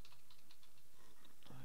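Quick, light keystrokes on a computer keyboard, a short run of close taps in a steady patter over faint background noise, ending in a low thump.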